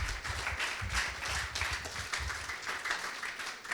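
Moderate applause from an audience at a conversation-series event greeting a guest, many hands clapping in a steady, somewhat distant patter that lasts a few seconds, with low rumbling beneath it.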